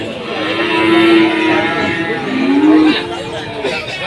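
Cattle at an Indonesian livestock market give two long, loud, close moos, one after the other, over a low hum of market chatter.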